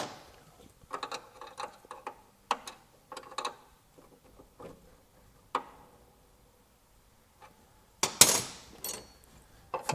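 Scattered metallic clicks and ratcheting taps come from a spanner tightening a copper brake pipe fitting on a Triumph Spitfire, some close and sharp, with a louder scraping burst near the end and no talking.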